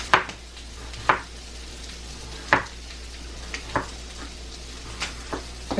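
Sausage fries in a pan during breakfast cooking: a steady, soft sizzle runs throughout, broken by several sharp clicks and scrapes from a utensil. No one talks.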